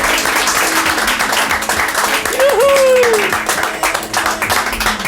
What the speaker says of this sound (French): Bon, on l'applaudit